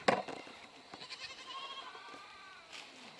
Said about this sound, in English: We'll show you the goats while we're in here